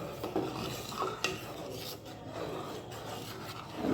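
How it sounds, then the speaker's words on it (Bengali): A spoon scrapes and rasps around a pan of simmering milk for mango rasmalai, soft repeated strokes, quiet and close, with a few light knocks against the metal. "ভালো করে নেড়ে নেব"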